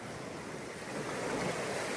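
Floodwater rushes in a loud, continuous roar with no breaks and no voices, swelling slightly partway through.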